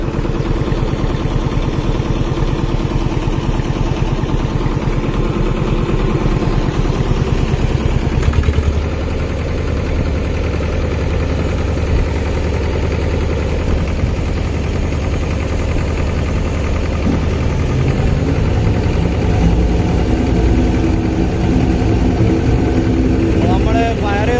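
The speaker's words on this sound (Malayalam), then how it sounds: "ഇത് എയർ കംപ്രസറാണ് കേട്ടോ" The engine of an air compressor at a road tarring site on NH66, a loud, constant low drone that runs unbroken for over twenty seconds, with talk over it.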